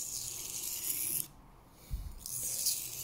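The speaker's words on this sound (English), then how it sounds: "Hope you don't mind the noise too much, but this is another way of telling that we're getting a decent sharpening on it." Knife blade stroked across a Lidl Parkside sharpening stone, a quiet steady rasping scrape that pauses briefly mid-clip with a soft knock, then resumes, with no talking.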